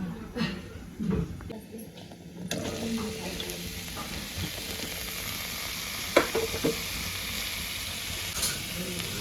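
Chopped bottle gourd roasting in oil in a pan, a continuous sizzle with intermittent spoon scrapes and clinks as it is stirred, with occasional soft background sounds.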